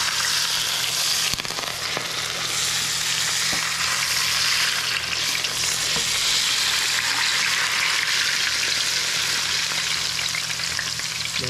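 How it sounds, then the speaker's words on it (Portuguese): Steady, dense sizzling and crackling of hot melted pork lard frying, loud and continuous throughout with no voices. "A banha é quente mesmo, tá fervendo mesmo"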